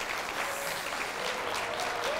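A church congregation applauds during a service, a steady, fairly loud wash of many hands clapping together without pause, with no voices standing out.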